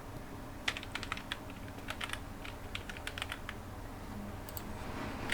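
Code being typed on a computer keyboard for a Python exercise, a steady patter of quick, light key clicks in short bursts over a soft background hum, with no talking.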